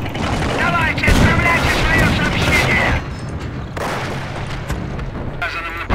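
Tank cannon and artillery fire boom through a Company of Heroes Eastern Front battle, heavy blasts and crackling shots overlapping in dense bursts, with a voice talking over part of it.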